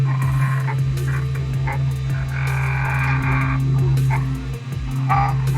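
A noisy hotend fan on a Creality CR-200B 3D printer drones with a steady low hum and a buzzing, rattly whir, close and continuous throughout, with no voices.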